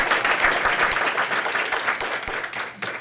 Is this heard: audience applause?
yes